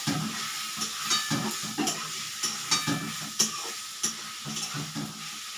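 Spiced mixture for dal chorchori frying in a pan: a quiet, steady sizzle broken by regular scraping strokes of a spatula stirring against the pan, close by with no speech.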